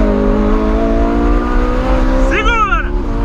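A neighbour's Ferrari engine drones steadily with rising harmonic whine, then revs up sharply near the end in a quick climbing burst, loud and close.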